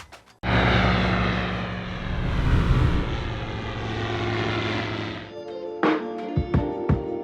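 A Sling NGT light propeller airplane engine drones steadily and loudly during turns around a point, briefly surging, then dropping off as a few thumps and bumps follow.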